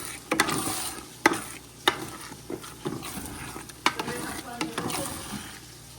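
Repeated scraping and stirring of a pig-skin pot pie filling that sticks to the pan, with irregular knocks and scrapes over a soft frying sizzle.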